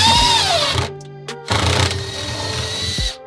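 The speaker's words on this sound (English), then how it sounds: "So we got 2 drilled holes already. We're going to drill 2 more." A power drill bores holes into wood while a farm-style emu feeder is built, its motor whining in loud close bursts that stop and restart with short pauses.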